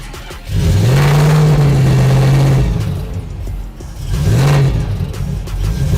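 A 1972 Dodge Charger's engine revs loudly and close, rising in two sustained blips with a steady rumbling idle between them, a show-winning classic car.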